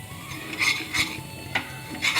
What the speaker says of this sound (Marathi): बेसन छान भाजलं की जरा चव छान लागते पिठल्याला असं बेसन भाजून घ्यायचं